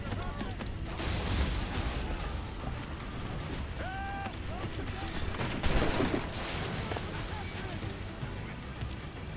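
Gunfire in a pirate video game during a chase mission: a dense, continuous clatter of shots with a louder burst near the middle, mixed with other game effects and someone talking over it.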